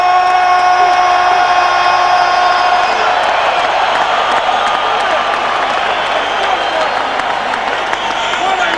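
A large boxing arena crowd at the Staples Center in Los Angeles roars and cheers continuously, a loud dense wash of voices and applause with a ringing tone fading early on.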